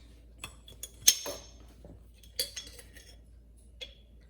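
A spoon stirs salt into a gram flour mixture in a bowl, giving sparse, quiet metallic clinks and scrapes in a few separate bursts against near silence.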